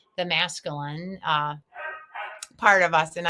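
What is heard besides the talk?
dog barking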